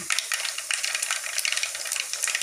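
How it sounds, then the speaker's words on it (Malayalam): Mustard seeds pop and crackle in hot coconut oil in a pan, with dense rapid sharp pops over a steady sizzle, close and fairly loud with no voices. "കടുക് പൊട്ടിച്ചിരിക്കുന്നുണ്ട്"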